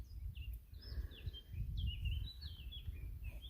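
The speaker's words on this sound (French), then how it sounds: "Les oiseaux." Small birds chirp outdoors in the countryside with a quick series of faint, high tweets repeated through the moment, over a low rumble of wind and movement.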